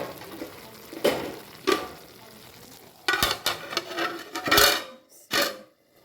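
Sitaw (string beans) cooking in a pan, heard as a soft sizzle under repeated clanks and scrapes of stirring, with sharper clusters of stirring noise toward the end.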